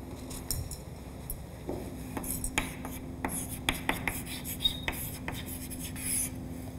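A marker writes the word fence on a board, with a series of short scratchy strokes and taps spread irregularly over several seconds, quiet and fairly close, without talk.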